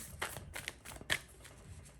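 Tarot cards being shuffled, a short run of quiet, close riffling flutters with a few sharper card snaps.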